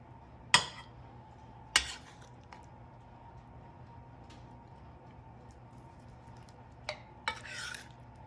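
Meat and red potatoes being served onto a plate, a few sharp utensil clinks and scrapes spaced apart over a quiet kitchen background.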